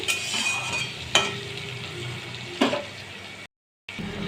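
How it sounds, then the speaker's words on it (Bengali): Potatoes frying in mustard oil with salt and turmeric give a steady close sizzle, broken by a couple of sharp scrapes or stirs and a brief dropout near the end. "লবণ হলুদ দিয়ে আলুটা আমি লাল করে ভালো করে আলুটাকে ভেজে নিচ্ছি"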